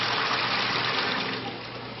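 Water flowing steadily at high demand through a Bradley Navigator thermostatic mixing valve, a loud continuous rushing hiss that eases slightly toward the end.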